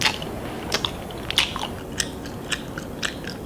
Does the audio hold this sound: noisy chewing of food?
yes